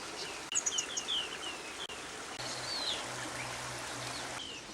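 Birds call with short high chirps and whistles over the steady rush of a cold river, with a faint insect-like buzz in the mix.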